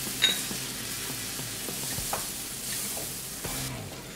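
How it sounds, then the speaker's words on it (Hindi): Maida roasts in a little butter in a pan as the start of a white sauce. A moderate, even sizzle carries throughout, with a few soft scraping and stirring clicks and no voices. "ये पहले मैदा हम थोड़ा सा बटर में भून लेंगे।"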